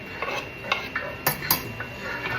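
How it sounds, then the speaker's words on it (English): Garlic and lemon zest stirred in a pan, a series of light scraping and clinking strokes of a utensil against the metal, close and fairly quiet, with a faint sizzle underneath. "we're going to stir it up for another minute to get the everything mixed together"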